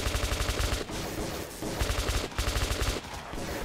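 Rapid gunfire in the video game Metro 2033 rattles in sustained automatic bursts with short breaks, loud and continuous.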